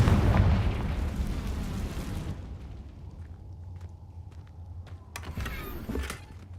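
A Confringo spell explodes in Hogwarts Legacy as a loud, roaring blast that fades over a couple of seconds into low rumble, with a few sharper pops and crackles afterward.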